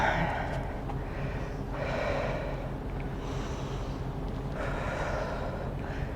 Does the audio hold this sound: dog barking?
no